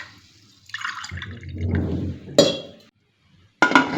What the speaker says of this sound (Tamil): அதுக்கு நான் பாதி அளவு பால் ஊற்றிக்கிறேன்.